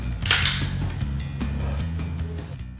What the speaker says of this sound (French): quand on recharge la culasse, on veut tirer juste assez fort pour qu'elle ouvre complètement et pousser juste assez fort pour qu'elle ferme complètement